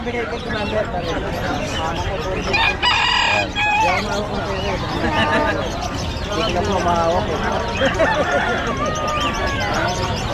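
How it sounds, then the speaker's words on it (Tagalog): Chickens at a pet market cluck and a rooster crows loudly and close by, over busy crowd chatter and nearby talk. "At may mga manok"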